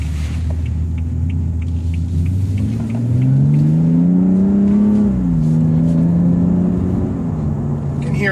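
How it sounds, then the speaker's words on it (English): A BMW 2 Series engine hums low and steady, then swells into a louder rising growl as the car speeds up through a U-turn, heard close by from inside the car, before settling back to a steady drone. "The car sounds great."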